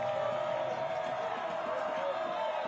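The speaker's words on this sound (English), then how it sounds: "The 47 Gaels cheerleaders down on that sideline are exhorting the crowd, and the crowd is ready." Bishop Gorman football fans on their feet roaring for a big third down against Mater Dei, a dense, continuous crowd din that holds steady and loud throughout.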